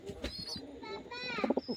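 Pigeons coo softly near their nest with eggs, brief low murmuring calls under a man's close speech.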